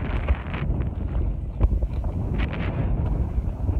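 Wind blows outdoors, buffeting the microphone with a steady low rumble and gusty bursts, with no clear talk over it.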